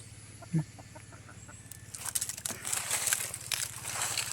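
A chicken clucks briefly near the start, followed by rustling, scraping and crunchy handling noises outdoors, with a low steady hum throughout.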